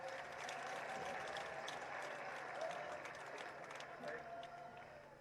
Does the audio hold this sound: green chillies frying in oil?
no